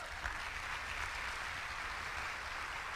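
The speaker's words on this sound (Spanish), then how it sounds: "¿Puedes darle un aplauso al Rey de Reyes?" A church congregation applauds steadily, a dense wash of many hands clapping at even loudness from start to finish, with no voices over it.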